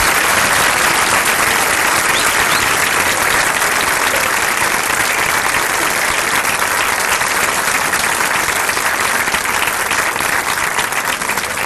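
Loud, dense applause from a concert audience greeting an Azerbaijani folk singer onto the stage, steady and continuous throughout with no voices on top.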